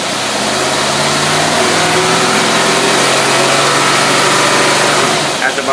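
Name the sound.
car engine running with Quadrajet carburetor, throttle opened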